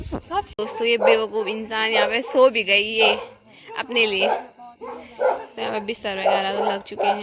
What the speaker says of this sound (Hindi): एक तो एक कुत्ता ना इतना भौंक रहा ना तब से